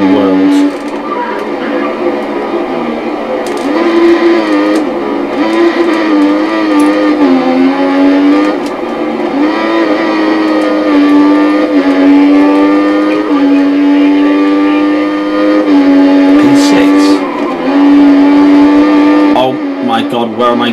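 A Toro Rosso Formula 1 car's engine in a racing video game drones steadily at high revs for the whole stretch, pitch rising and dipping through corners, with someone talking over it throughout.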